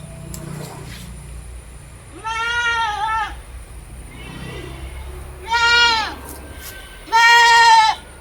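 Two young male goats, about three months old, bleat in a few loud, wavering calls, with a pause and then two close calls near the end, over a low background hum.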